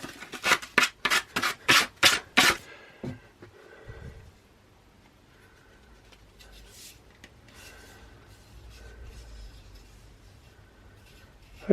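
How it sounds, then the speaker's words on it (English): P120 grit sandpaper rasps in about eight quick, rhythmic back-and-forth strokes up close, then the scratching stops and only faint, quiet handling noise follows. "It's P120 grit, general kind of all round sanding paper."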